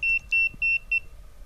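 An EMF detector fitted inside a Ghostbusters-style PKE meter prop gives four short, evenly spaced high electronic beeps, close and clear, and then falls quiet.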